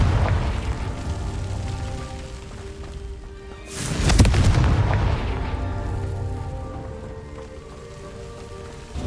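A single booming blast from the Confringo spell in a Harry Potter video game bursts out at once over a constant rumbling game ambience, then fades slowly across several seconds.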